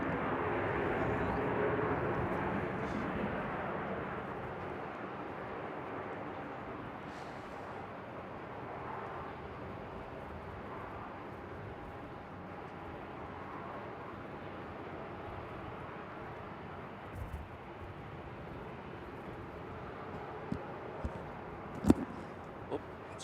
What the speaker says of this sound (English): Listen to those 400 engines.